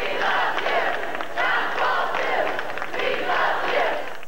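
A large outdoor crowd, mostly standing, cheers and roars at a papal visit in steady waves, loud and dense with no clear individual voices.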